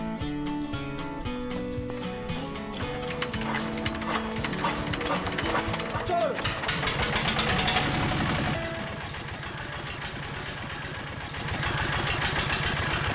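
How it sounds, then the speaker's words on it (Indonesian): A diesel-powered brick press machine runs steadily and loudly, its engine chugging with a rhythmic mechanical knock and clatter that swells mid-way, then eases and picks up again. "Di Leo ini pembuatan batu bata menggunakan sistem press dengan mesin berbahan bakar solar."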